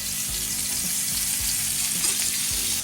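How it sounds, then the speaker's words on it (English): Entrecôte steak sears in a hot pan with a knob of butter, giving a constant, close hiss of frying with soft periodic low thumps underneath and no voices. "We're going to be adding a fair knob of butter to the pan, maybe a bit more."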